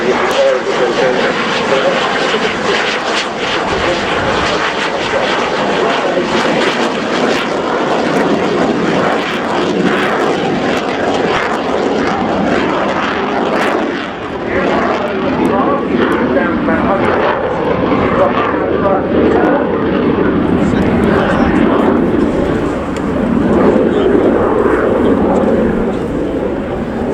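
A Swedish Air Force Saab JAS 39C Gripen jet flies a slow-speed display manoeuvre at the RIAT air show at Fairford, a loud, continuous roaring engine noise that lasts throughout while an announcer talks over it.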